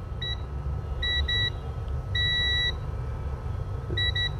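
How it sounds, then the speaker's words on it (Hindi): A multimeter in continuity mode gives shrill electronic beeps while probing a shorted capacitor on a Poco M3 phone board: four short bursts, some doubled, over a steady low background hum. "ये देखिए बीप दे रहा है, ये शॉर्ट कैप है"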